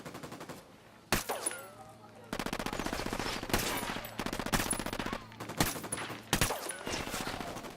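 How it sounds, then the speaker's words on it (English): Gunfire in the Ghost Recon Wildlands video game: several loud, sharp bursts of rapid automatic fire with short gaps between them, close and echoing over a low hum. "I'm opening fire on these shitheads."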